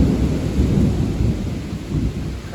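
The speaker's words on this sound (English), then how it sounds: "Crazy windy thunder and that lightning." Thunder rolls low and heavy through a windy rainstorm, a continuous rumble close and loud over the hiss of falling rain.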